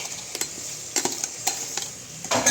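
Masala spices go into frying vegetable pulao with tomato, and a spoon stirs against the pan in scraping strokes over a soft sizzle, close and moderately quiet, with no talk.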